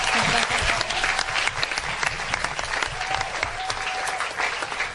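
Sustained audience applause at an honors ceremony where students bound for Cornell and Rutgers are introduced, a dense steady roar of many hands clapping, loud and even throughout, with faint voices underneath.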